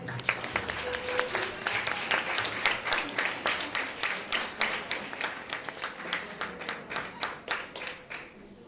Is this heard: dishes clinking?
no